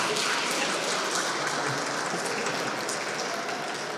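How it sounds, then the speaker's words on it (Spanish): Steady applause from an audience at a panel session of a care festival, a dense even patter of many hands held at constant strength from start to finish with no voices over it. "Les pedimos un aplauso para Claudia."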